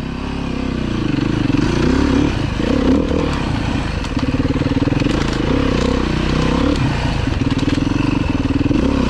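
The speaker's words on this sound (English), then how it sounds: "on the 390 is this kind of mystery, like clacking, slapping noise. Can hear it a little bit here." A KTM 390 motorcycle engine runs loud and close, with a rough, continuous drone and an irregular clacking, slapping rattle riding on top as the revs rise and dip.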